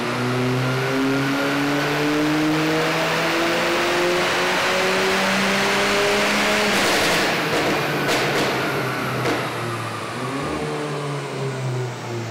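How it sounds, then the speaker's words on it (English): Alfa Romeo 4C engine on a dynamometer during a power run, revving hard through rising pitch sweeps, loud and close, then an abrupt drop near the end with crackles and pops on deceleration. "So the next thing you'll see is this Alfa on the dyno having a power on."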